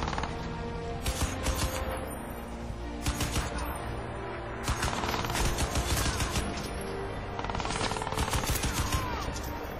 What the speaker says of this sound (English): Are you trying to hit me with a shotgun?